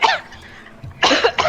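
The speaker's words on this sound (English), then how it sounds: "I just go into a coughing fit." Coughing fit from a player at a tabletop Dungeons & Dragons game, a few sharp, close, loud coughs in quick succession with a short pause between them.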